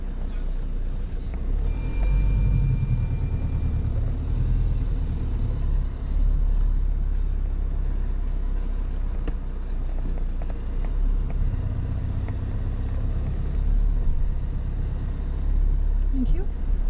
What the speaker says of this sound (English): Malek reverses back really slowly, looking over his left and right blind spot